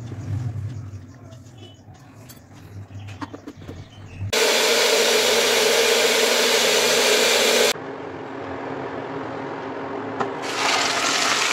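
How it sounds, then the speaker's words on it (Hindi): Water is poured into a cooking pan holding tomatoes and ginger, setting off a loud, steady hissing sizzle that runs for several seconds, eases, then swells again, with someone talking before it starts. "थोड़ा सा पानी ऐड करेंगे"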